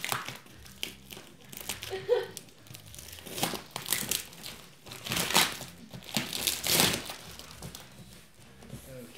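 A delivery package holding a pumpkin is ripped open and its plastic bags crinkle and tear in repeated close, loud bursts of crackling with short pauses between handfuls.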